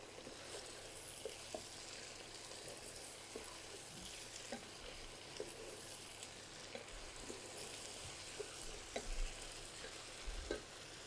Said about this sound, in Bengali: এটাও আমি চিকেনের সাথে সুন্দর করে ভেজে নিব।